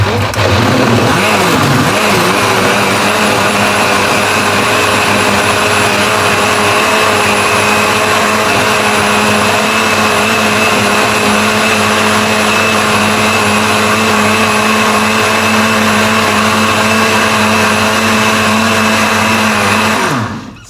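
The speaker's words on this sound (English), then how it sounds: "So now we're going to blend the pepper, as I said. Okay, it's a bit noisy." A blender blends peppers continuously at high speed, a loud steady whirring whine that holds for about twenty seconds before cutting off.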